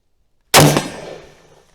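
A single loud, close rifle shot from a 1942 Tokarev SVT-40 self-loading rifle cracks after a short silence, then rings and decays over about a second.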